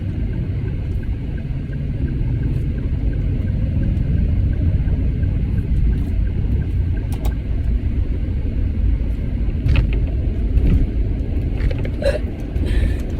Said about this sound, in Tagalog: May truck pala.